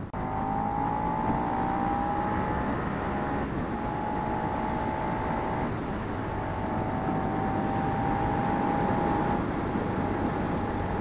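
A 2016 Suzuki SV650 motorcycle engine drones steadily at about 45 mph, its tone shifting slightly as the throttle changes, with loud, continuous wind rush over an unscreened bike throughout.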